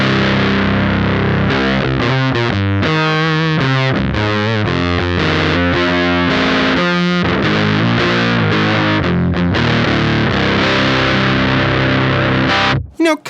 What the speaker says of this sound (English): as we start to increase the gain control, we're gonna get more saturation and more fuzz